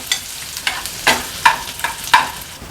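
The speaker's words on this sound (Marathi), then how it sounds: "लसूण आणि कांदा तेलावर शिजवून घ्यायचा आहे।" Crushed garlic and a medium onion fry in oil for an Agri Koli prawn dish. About six sharp, evenly spaced spatula stirring scrapes cut through a soft, close sizzle.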